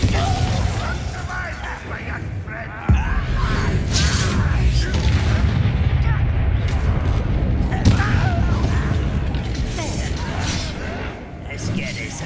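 Bombarda blasts from spellcasting in a Hogwarts Legacy wizard battle thump as sharp booms, two standing out clearly, amid constant combat clatter and bursts, with voices shouting throughout.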